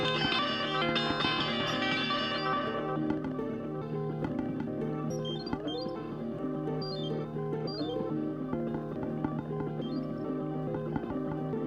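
A sustained distorted synth drone drenched in reverb, with dense layered tones and occasional swirling echoed sweeps fading into a washy tail.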